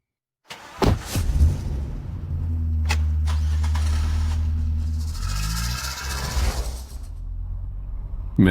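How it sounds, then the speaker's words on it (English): A car engine runs steadily at night with a low, continuous drone that swells and shifts in pitch, joined by a few mechanical clicks and a thump at the start, with no voices. "Miss, a car seems to be following us."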